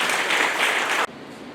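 Audience applause at a Tamil devotional gathering welcoming a speaker to the stage, dense steady clapping that cuts off abruptly after about a second, followed by quieter room tone.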